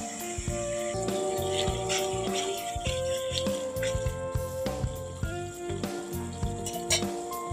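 Green chillies sauté in a pan of fish kalia masala, a continuous close sizzle with scattered crackles and pops beneath steady background music.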